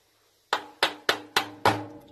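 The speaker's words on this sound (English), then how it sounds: "Just tap it in." Metal punch tapping a pin into a Sig P365 pistol, five sharp hammer strikes in a quick, even sequence after a brief silence, close and clear with no talk.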